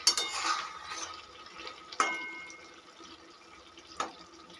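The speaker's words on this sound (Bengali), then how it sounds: "এবার ঢাকনাটা তুলে দেখে নেবো আলুগুলো সিদ্ধ হয়েছে কিনা।" A cooking pot lid is lifted to check boiling potatoes, giving a clattering metallic clank at the start followed by a few lighter, isolated clinks over a faint bubbling background.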